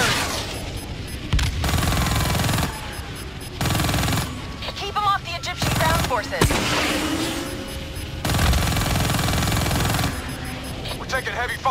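Heavy gunfire and explosions in the shooter game Call of Duty: Black Ops 3, loud bursts and booms recurring throughout with blaring dense noise, mixed with voices and game sounds.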